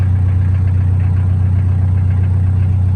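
A car engine idles while warming up, a loud, close, steady low rumble with an even, unbroken throb throughout and no talking.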